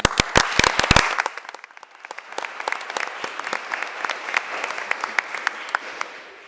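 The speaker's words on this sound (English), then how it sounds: "We could hear a round of applause for him" Applause breaks out at a town council meeting: a few sharp, close claps at first, then a softer, steady round of clapping from the room that gradually thins out.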